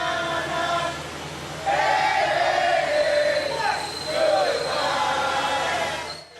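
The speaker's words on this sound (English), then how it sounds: "The crowd that had gathered didn't hide their satisfaction" A crowd gathered for the removal of the Robert E. Lee statue in Richmond, Virginia, cheers and whoops at a moderate distance. Long sustained shouts rise over a continuous murmur of voices.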